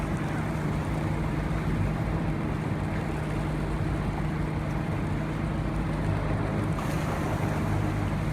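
A Hellenic Coast Guard boat at sea, with steady loud engine and water rush, waves and wind buffeting the microphone in one continuous roar and no voices.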